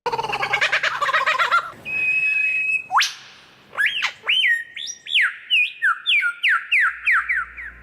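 An Australian lyrebird mimics many species in one run, including a kookaburra, grey shrike-thrush, superb fairy-wren and a thornbill alarm call. Harsh chattering, a steady whistle and a rapid series of loud, sweeping whistled notes follow one another, close and clear.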